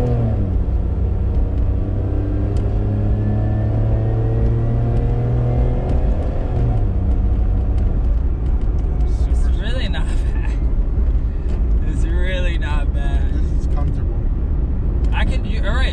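An imported car accelerating on the road, a loud steady engine drone that rises in pitch through the first half before shifting gear, with people talking over it later.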